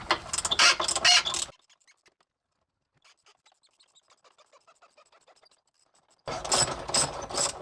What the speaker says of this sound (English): now we can go ahead and take off the ring